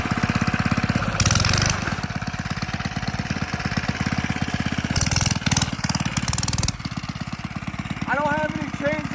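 A mini bike engine cold-starts and runs in the snow with a loud, fast, steady putter. The revs rise briefly a few times, and the sound stays close throughout.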